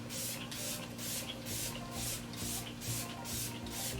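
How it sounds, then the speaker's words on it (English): A makeup setting spray bottle pumps in regular bursts, about eight quick hissing sprays in a steady rhythm, close and clear. "So I'm going to take this, shake it up, and give me some pumps."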